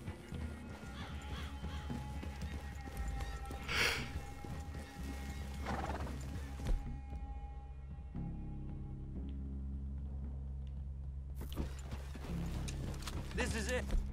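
Horses clip-clop at a walk through a clearing in a Western-style video game, a steady hoof rhythm under game music and a neighing horse, with characters talking quietly over it.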